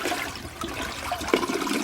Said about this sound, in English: Everything that goes down the drain in here, or gets flushed down here,